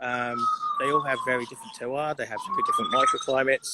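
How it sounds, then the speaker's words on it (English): A siren wails in the background, gliding slowly down and then back up, while someone speaks steadily in the foreground. "Sorry about the feedback and sirens."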